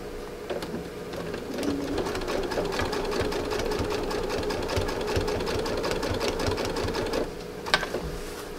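A sewing machine stitches through fabric-covered rope, running in a steady, continuous mechanical whir with rapid needle clatter for most of the span before slowing and stopping near the end, close and alone without talk.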